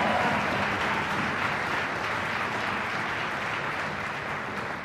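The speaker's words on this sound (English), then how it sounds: "Let's give him a cheer." An audience at an orchestra concert claps and cheers in a dense, steady wash of applause that holds at an even level throughout, with no voices standing out.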